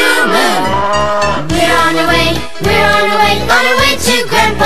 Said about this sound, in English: The cow, she makes a sound like this, moo moo.